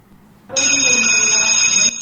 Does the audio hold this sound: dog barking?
no